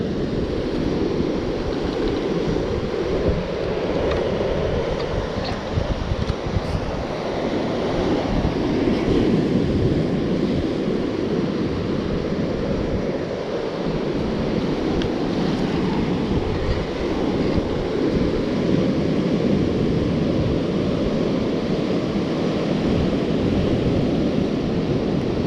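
Rough sea surf breaking on a shore where anglers are sea fishing, a dense continuous roar that stays loud and steady throughout with no voices.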